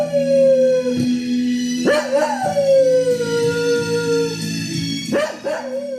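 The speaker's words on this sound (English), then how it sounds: "I appreciated the dog howling at the TV" A dog howls loudly and continuously at a TV theme song, long sustained wavering tones with a few brief breaks and yips, close and dominant over faint background music.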